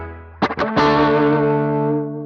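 Electric guitar played through a Line 6 Helix Dual Amp Plus patch, likely a Les Paul: a few quick picked notes, then a sustained distorted chord ringing out with chorus and effects shimmer, alone and close.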